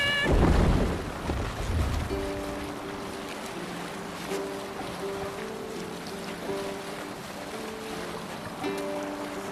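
Ocean waves and wind wash around a sailing ship at sea in Assassin's Creed Valhalla, with a strong surge at the start settling into a steady, moderate rush, joined by a faint tonal game music line.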